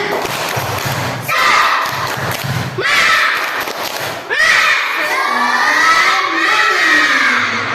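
Fourth-grade schoolchildren in a classroom perform the tepuk semangat clapping chant, with bursts of group clapping, thumps and loud shouted chanting in rounds.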